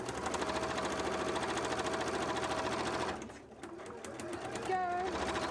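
A sewing machine stitches a cosplay costume, a fast steady mechanical whir that runs for about three seconds, then stops for a brief pause before some light handling noise.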